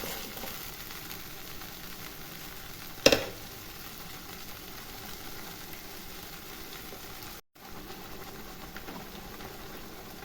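A spinach mixture for palak paneer fries in a wok with a faint, steady sizzle, broken by one sharp clank of stirring early on.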